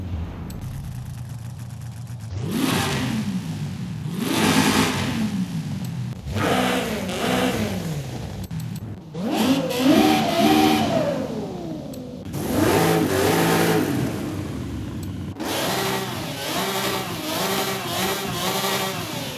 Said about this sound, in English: Here's a quick sort of sound test of all of the engines.